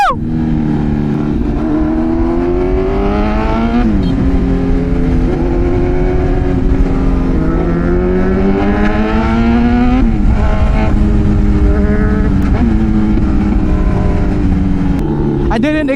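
A big motorcycle engine drones loudly and steadily, its pitch rising and falling repeatedly as the rider revs and shifts.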